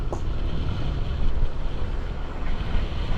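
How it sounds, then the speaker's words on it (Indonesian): Evening wind and the open sea at a clifftop coast, a constant roar of wind buffeting the microphone over low rumbling surf, loud and steady with no voices. "Angin sorenya, laut lepasnya, mantap banget."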